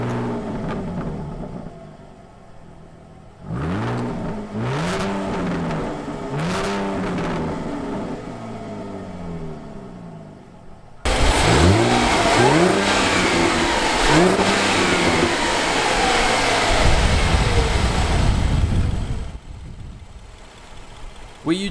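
A 2016 Jaguar F-Type with a 3.0-liter supercharged V6 revs repeatedly from idle in rising and falling blips, then gives a longer, louder sustained roar. It sounds close and strong, with faint background chatter.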